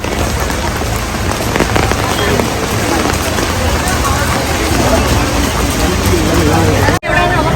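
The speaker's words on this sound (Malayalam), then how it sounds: "മഴ ഇങ്ങനെ ഉണ്ടായോണ്ട്." Steady, loud rain pours down at Kottiyoor temple in Kerala, a dense continuous hiss that holds for about seven seconds before cutting off abruptly, with faint voices underneath.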